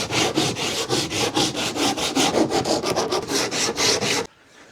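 Wooden climbing hold having its sharp edges rounded over by hand sanding: steady, rhythmic back-and-forth scratchy strokes, close and fairly loud, about fifteen passes before stopping abruptly.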